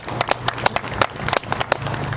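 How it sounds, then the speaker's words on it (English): A crowd gathered at the Denver Capitol applauds for Minister Louis Farrakhan, with scattered, fairly sharp hand claps ringing out at a steady pace across an open space. "In their names, yeah, give him a hand clap"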